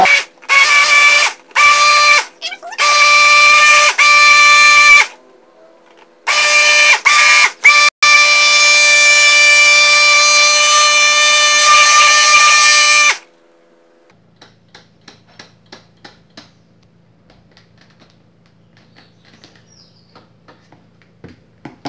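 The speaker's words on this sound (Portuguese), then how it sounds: "Nós vamos bater ele com o mix." Hand mixer whipping dissolved soap base for a homemade quaternary-style fabric softener, a loud steady motor whine broken by several short stops over the first thirteen seconds, then quiet with faint scattered ticks.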